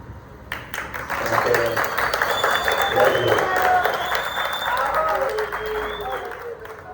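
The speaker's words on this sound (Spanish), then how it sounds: "no le dé pena aplaudir" An audience applauds at a conversational panel event, a dense wash of clapping hands swelling after the first second and holding steady, with a few voices and faint calls mixed in beneath.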